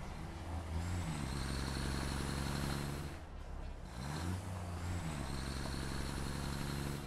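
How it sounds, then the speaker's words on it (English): A heavy truck drives in the factory-building video game Satisfactory. Its steady, loud engine drone has rising and falling harmonics, with a brief air-brake-like dip midway before the engine picks up again. "The sounds are good. I do very much enjoy the truck."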